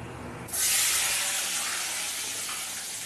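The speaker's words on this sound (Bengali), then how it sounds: "এবার আমি বেগুনগুলো সব দিয়ে দেবো তেলের মধ্যে।" Eggplant pieces dropped into hot oil burst into a loud, sustained sizzle that starts abruptly and stays dense and steady, slowly easing in intensity, close up with no talking.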